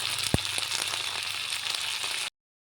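Vegetables dropped into hot oil with cumin seeds, sizzling and frying steadily with a bright hiss and one sharp thump early on, heard alone until it cuts off abruptly.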